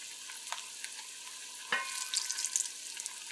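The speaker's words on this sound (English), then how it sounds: "So we're just frying the other side a little bit" A soft, steady sizzle of eggs frying in a pan, with a few light clinks and scrapes near the middle.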